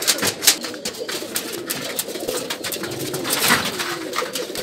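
Many Girbaz pigeons coo in overlapping low murmurs at a large pigeon farm, a dense, close flock sound with occasional wing flutters and faint background talk.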